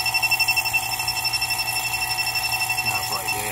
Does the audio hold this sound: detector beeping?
yes